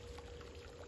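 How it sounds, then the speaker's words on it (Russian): Water pours steadily into a garden container near a pump and timer setup, a faint, continuous gurgling splash with no voices. "сейчас должен добавить воды сюда."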